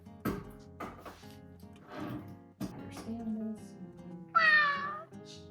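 A house cat meows once near the end, a clear rising and falling call, after a stretch of indoor talk and household noise.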